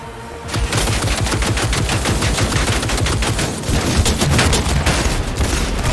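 Sustained automatic gunfire in Cyberpunk 2077, a rapid, dense stream of loud shots running almost unbroken after a brief quiet start, close and overlapping.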